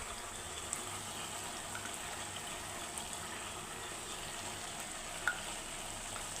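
Ghee sizzles softly in a pan while banana payasam is stirred, a faint, steady frying hiss with a few light scrapes and no talking.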